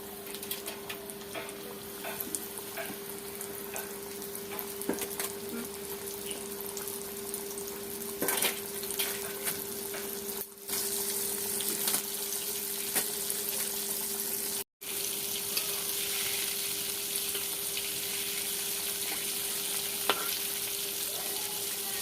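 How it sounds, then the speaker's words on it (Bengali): Flour-coated mutton chops fry steadily in hot oil, a continuous crackling sizzle with occasional sharper pops, alongside a faint running-water hiss and the clink of handling; no one talks. "আরেকবার কোট করতে করতে বাকি যেগুলো ছিল সেগুলো তেলের ভিতরে দিয়ে দেব।"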